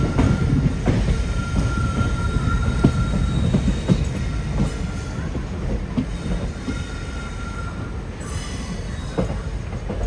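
A Trivandrum Express train hauled by an ALCO diesel locomotive runs near Thiruvananthapuram, with a continuous heavy rumble, rhythmic wheel clatter and brief squeals of wheels on rails, steady and close throughout.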